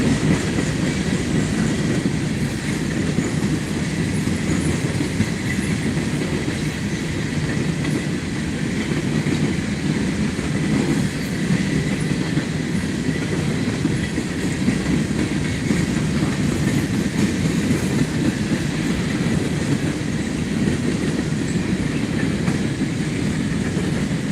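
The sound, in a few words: CSX freight train passing trackside at Thurmond, West Virginia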